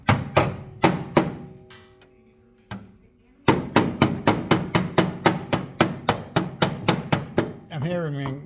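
Sharp repeated hammer blows ring out as a steel floor panel flange is bent down onto the floor rail, in fast close bursts separated by a brief pause, with a voice speaking at the very end.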